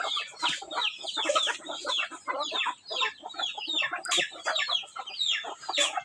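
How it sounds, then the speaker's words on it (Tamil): Hens cluck and chatter continuously nearby, with overlapping clucks and short squawks and no voices. "எல்லாமே கொடுக்குற கோழி தான்"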